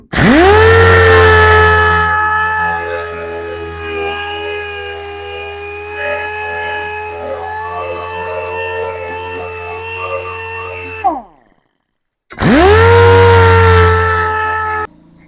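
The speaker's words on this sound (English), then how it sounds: "Got a piece of 80 grit on my dual action sander here" Dual action sander running with 80 grit sandpaper roughing up metal on a John Deere 2010 exhaust repair, a steady loud whirring hum with a stable high whine that cuts out briefly and then starts up again.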